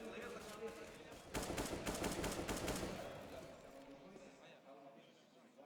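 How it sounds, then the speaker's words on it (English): Rapid bursts of AK rifle fire in a CS:GO professional match between FaZe and North, crackling fast for a couple of seconds and then fading, with a commentator talking over the shots throughout. "Shots through on the AK at mid."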